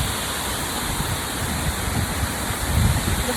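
Waterfall at Khor Fakkan, UAE, roars as a steady, loud broadband rush of falling water, continuous and close with no voices.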